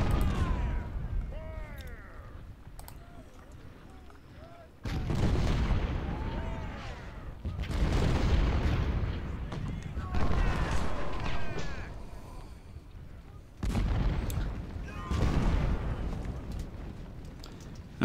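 Artillery fire in the video game Ultimate General, with heavy booming cannon volleys arriving in several loud waves, each followed by rumbling decay and faint distant cries, and a voice talking at times.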